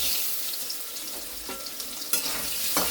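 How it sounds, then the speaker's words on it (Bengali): Potatoes frying in a pan on a home kitchen stove, giving a steady close hiss and sizzle with a few faint clinks and stirring scrapes, no voices. "দুবেলা দুটো আলুটাও একটু ভেজে তুলে নিই।"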